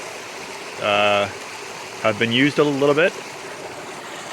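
Fast-flowing, tea-colored forest stream on Vancouver Island, a steady rushing wash of water close by, with someone talking briefly over it.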